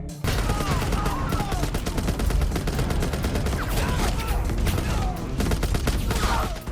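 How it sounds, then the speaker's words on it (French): Sustained frantic machine gun fire from an action film prison escape, dense rapid bursts without pause, loud and close, layered with ricochet-like whistles and battle noise throughout. "Jack a pris fermement une mitrailleuse et a ouvert le feu frénétiquement sur les ennemis qui arrivaient."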